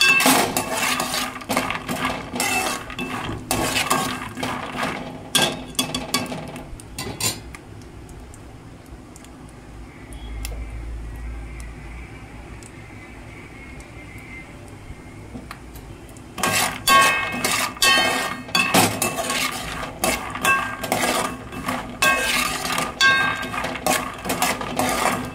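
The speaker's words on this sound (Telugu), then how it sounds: "చూడండి, వేరుశనగకాయలు వేగుతూ ఉన్నాయి." Peanuts in the shell roasting in a pan for a homemade peanut chutney, with a dry rattling, clattering scrape as they are stirred, a quieter pause midway, then more clatter.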